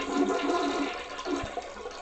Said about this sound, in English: Now we'll go ahead and flush the toilet again. Let all the water drain out of that tank.